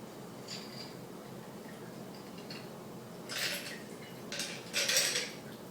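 A martini is strained through a julep strainer into a glass, giving faint metallic clinks and a few brighter rattling taps near the end over a quiet, steady background.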